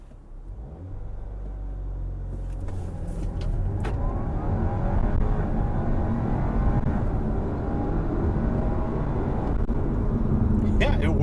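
A 2017 Audi A4 quattro launches hard from a standstill with traction control off, its engine rumble building from a low idle into a sustained loud surge of acceleration, heard from inside the cabin.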